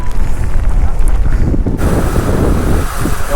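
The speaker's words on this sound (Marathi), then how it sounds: "एवढा वारा आहे" Strong wind with heavy rain buffets the microphone in loud, continuous gusts, roaring and rumbling throughout.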